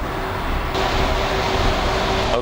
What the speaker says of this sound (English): it's a little bit loud here because I'm standing right next to the concrete truck and the pump machine